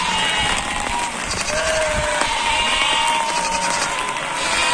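A migrating flock of sheep bleats near a streambed, with several drawn-out calls rising over a continuous rustling crowd of animals, close and steady, with faint voices mixed in.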